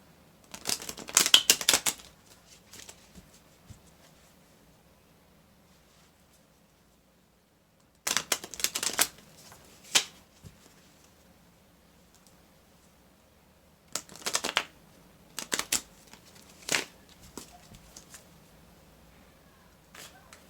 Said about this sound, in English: they want me to shuffle the masculine and feminine decks, but not the oracle decks